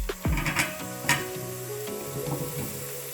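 Butternut squash hitting a hot curry pan gives a sharp burst of sizzling that settles into a steady fry, with a few stirring scrapes and clinks. Background music plays underneath.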